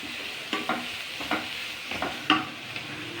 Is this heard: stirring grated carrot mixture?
yes